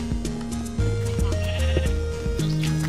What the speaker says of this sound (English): Sheep are starting to complain.